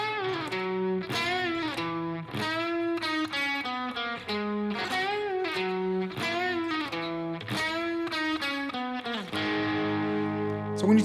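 A distorted electric guitar on the bridge pickup plays a melodic solo, with bent, sustained notes and quick phrases, loud and close, with a bright, biting tone.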